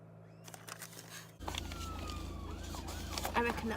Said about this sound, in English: I reckon that's an ambulance.